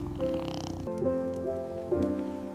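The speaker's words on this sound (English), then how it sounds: "surrounded by warmth and the soft sound of purring" A soft, continuous rumbling purr from a cat close by, steady and low throughout.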